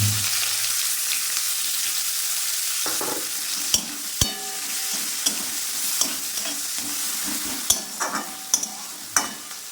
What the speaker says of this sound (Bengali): দুটো বড় পেঁয়াজ আর 4টে কাঁচা লঙ্কা এর মধ্যে দিয়ে দিলাম